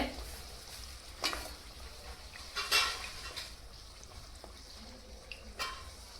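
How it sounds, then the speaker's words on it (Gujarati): Bhature deep-frying in hot oil for a chhole bhature dish, one side being fried before turning; soft, steady sizzle and crackle with a few sharper pops and light clinks, fairly quiet, no talk. "પછી તેને આપણે બીજી સાઈડ પલટાવી અને બીજી સાઈડ પણ તળી લેશું"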